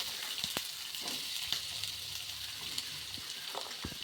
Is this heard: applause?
no